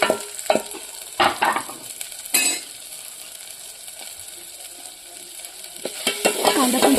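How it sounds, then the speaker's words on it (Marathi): Onion goes into ginger garlic paste in a pan over a wood-fired chulha, and the clip carries a few sharp clinks and scrapes of stirring, a brief burst of sizzle, then a low steady fry that grows louder near the end. "त्यामध्ये कांदा टाकते."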